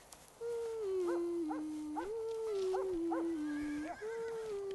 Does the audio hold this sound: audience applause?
no